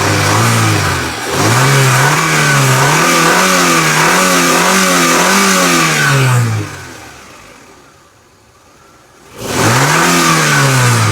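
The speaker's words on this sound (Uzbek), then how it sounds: "Endi bir yoqing ham motorni endi ko'raylik-chi." A car engine, its hood opened, runs loudly and revs up and down in repeated surges, drops away into near silence for a couple of seconds, then roars back with another rev.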